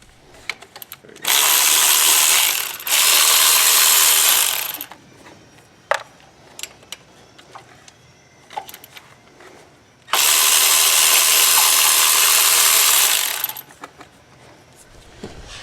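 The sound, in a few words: ratchet removing exhaust manifold bolts on a Chevy Cruze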